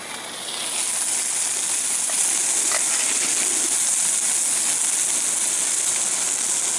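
Mushrooms and onions sizzling in a pan over a campsite stove, a steady loud hiss that holds for several seconds with no one speaking.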